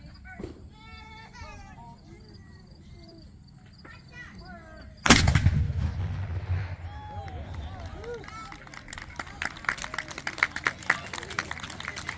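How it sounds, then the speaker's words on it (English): A Civil War light artillery cannon fires one loud, close boom at a historical village Wild West show. A voice speaks before the blast, and crowd noise and scattered sounds follow after it. "Heading our show with a big bang is the 10th Wisconsin Light Artillery Battery."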